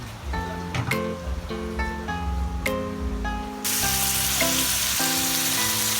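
Farm-grown produce frying in a pan, a steady sizzle under melodic background music, growing louder and brighter partway through, with no talk.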